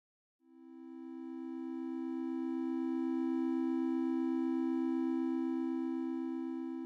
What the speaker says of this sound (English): let's hear that lovely major third based on E